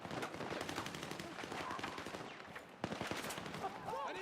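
Gunfire in the Battlefield 6 campaign, rapid bursts of shots crackling in quick succession at moderate distance, with a sharper nearby shot near the end over a busy battle din.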